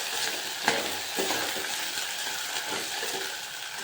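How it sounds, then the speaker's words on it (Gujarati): Potatoes fry in oil over a low gas flame with a steady, close sizzle, while a spoon stirs them and gives a sharp clack against the pan near the start. "અને હલાવી દઈએ, ગેસ ધીમો કરી દઈએ, હલાવી દઈએ."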